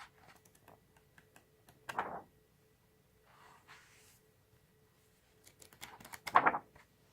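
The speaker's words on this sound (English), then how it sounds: "page turning." Pages of a fairly new book published in 2013 are turned in a quiet room. Two distinct papery flips and rustles stand out among faint light taps, close and soft.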